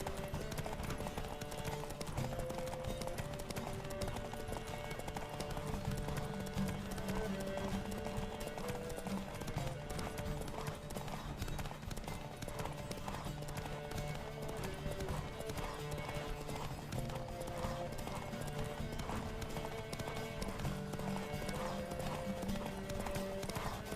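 Horses gallop in a race in the video game The Witcher 3: Wild Hunt, a fast, continuous clip-clop of hooves with occasional neighs over a steady background score.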